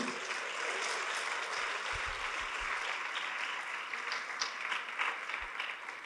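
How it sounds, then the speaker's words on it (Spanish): A church congregation claps in sustained applause during a Spanish-language worship service, a steady wash of hands that holds evenly for several seconds with no talking over it. "Dele una ofrenda de palmas al Señor"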